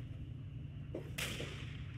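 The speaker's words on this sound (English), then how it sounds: "Okay, that is gunshots." Two sharp gunshot cracks in the Fallout 3 video game soundscape, the second louder and followed by a lingering bright burst over a steady low background hum.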